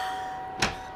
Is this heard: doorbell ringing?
yes